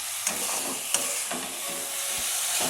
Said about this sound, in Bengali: এটা আর একটু নেড়ে আমি শুকনো করে নেব